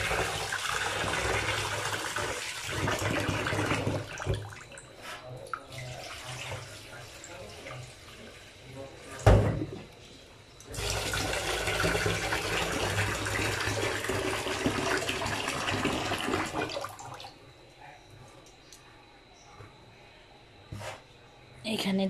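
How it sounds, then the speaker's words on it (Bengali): Rice is washed under running water in a home kitchen, with long stretches of pouring and splashing broken by short pauses, and a voice speaks at times over the water. "চালগুলো একদম ভালো করে ধুয়ে নিচ্ছি।"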